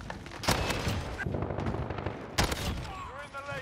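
Gunfire in a first-person shooter video game, two sharp loud shots standing out among a busy rattle of game noise, with a player talking over the action.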